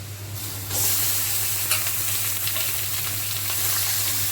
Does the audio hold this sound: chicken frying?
yes